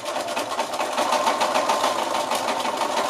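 A sewing machine stitches the back of a zipped cushion, a steady, continuous mechanical whirr running close and fairly loud for the whole stretch with no talk over it.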